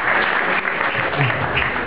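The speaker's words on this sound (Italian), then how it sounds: "vi pregherei di fargli un applauso anche per questo" Audience applause at an Italian gathering: a short, dense burst of clapping from a crowd, close and fairly loud, holding steady throughout.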